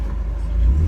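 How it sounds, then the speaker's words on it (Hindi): Engine of a Maruti Gypsy idles steadily after a wiring fix, a close, loud low rumble that swells slightly as the clutch is let out and the vehicle starts to move. "देखो क्लच छोड़ते गाड़ी चल रही है सही फिट।"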